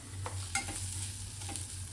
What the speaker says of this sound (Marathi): आणि धनेजिऱ्याची पूड टाकून त्याला छान मिक्स करून घ्यायचं आहे.